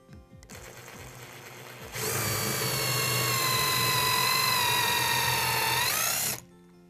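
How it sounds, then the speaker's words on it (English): A power drill boring peg holes into wood, starting with a quieter whine and then rising into a loud, steady high-pitched drilling that holds for several seconds before stopping abruptly. "you're going to want to find a drill bit that's about 1/32 of an inch smaller than the peg stock you're using"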